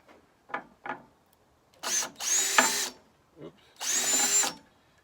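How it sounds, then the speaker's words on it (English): A drill bores out a hole in a tennis racket frame, heard as two short, loud whining bursts of drilling with brief quiet gaps, preceded by a few light handling knocks. "See if I can get that drill and drill that out a little bit."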